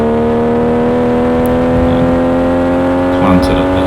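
A Triumph TR6 engine pulls hard around Mallory Park circuit during a sprint, a loud steady in-car drone with strong engine harmonics held throughout, rising slightly near the end.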